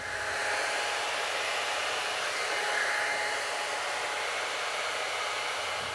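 A T3 AireBrush Duo hair dryer brush blows out curly hair straight, giving a steady, close, even whooshing roar that continues unbroken throughout with no talking.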